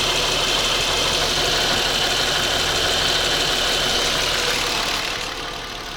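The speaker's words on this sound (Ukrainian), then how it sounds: "Прогрів до робочої температури, погазував." A warmed-up Volkswagen Passat B5 1.9 turbodiesel engine runs loud and steady close by with a dense mechanical roar, easing slightly lower near the end; no talk.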